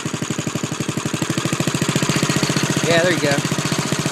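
An internal combustion engine runs on gas from a simple charcoal gasifier, with no carburetor or gas tank, chugging in a steady, fast, even rhythm close by while someone speaks briefly over it.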